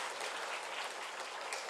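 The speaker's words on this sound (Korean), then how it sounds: "우리 찬양팀에게 격려 박수 감사합니다." Church congregation at a revival service applauds the praise team, a faint, steady, even patter of many hands clapping throughout.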